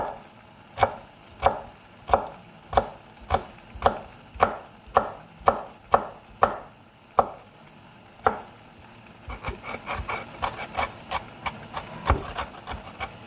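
A knife chops vegetables for homemade chili on a board in crisp, evenly spaced strokes that come one by one up close, then a quicker, more ragged burst of cuts near the end.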